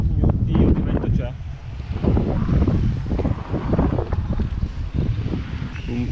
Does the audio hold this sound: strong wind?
yes